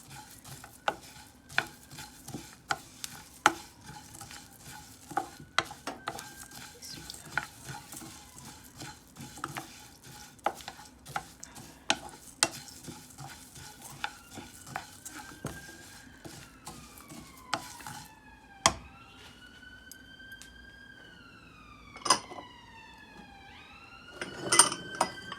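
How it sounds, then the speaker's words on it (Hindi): Spices dry-roast in a hot frying pan as a spoon keeps scraping and tapping against the metal in sharp, irregular clicks, with a siren wailing faintly in the distance. "अब हम इसे इस तरह करते रहेंगे ताकि ये जले ना, चम्मच चलाते रहेंगे।"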